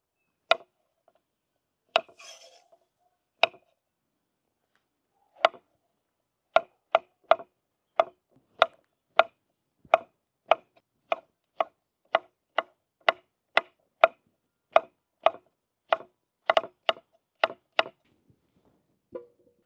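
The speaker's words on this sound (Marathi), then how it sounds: "आपण आता दोडके कट करून घेऊ।" A knife chops ridge gourd on a board in sharp, distinct close taps, a few scattered at first, then a steady, evenly spaced run of about twenty chops, with silence between strokes.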